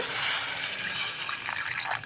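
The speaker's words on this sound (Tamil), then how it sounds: "இதை போட்டுட்டு இது முங்குற அளவுக்கு தண்ணி வச்சுக்கோங்க" Water pours steadily into a pot holding two cinnamon sticks and a little cumin, for a soup of mudakathan keerai, a continuous close splashing gush with no talk.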